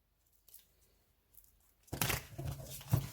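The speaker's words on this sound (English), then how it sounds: "That was really crap shuffling." A quiet stretch, then a burst of papery riffling and slapping as a deck of tarot cards is clumsily shuffled close by, with a couple of louder flicks.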